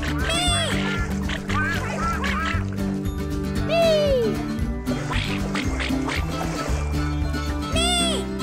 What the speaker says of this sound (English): birds fly over the sea.